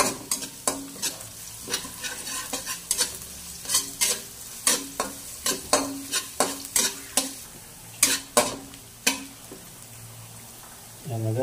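Garlic and onion sautéing in a pan for Filipino ginisang sardinas, with a steady sizzle broken by frequent sharp scraping and stirring clicks of a utensil against the pan, close and fairly quiet.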